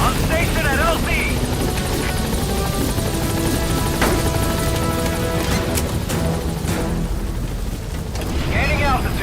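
A helicopter in Metal Gear Solid V lifts off and departs the landing zone, a loud, steady rotor roar filling the scene with a couple of sharp impacts and brief radio-style voices over it.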